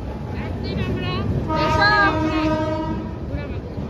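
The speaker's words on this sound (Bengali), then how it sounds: "তাহলে ট্রেন ঢুকে যাবে কিছুক্ষণের মধ্যে" A train rumbles into a station with a long horn blast rising over the rolling noise, loud and close.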